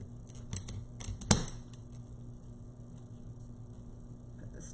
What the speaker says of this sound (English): Oh, I forgot to cut off these tails. Let me cut these off before I...